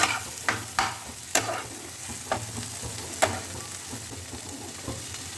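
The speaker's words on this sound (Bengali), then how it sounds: "তো এটাকেও ভালো করে আমি নাড়িয়ে দিচ্ছি একটু কুক হতে হবে" Green peas and paneer frying in a pan, a continuous moderate sizzle broken by several sharp scraping knocks as a spoon stirs the mixture, close up with no talking.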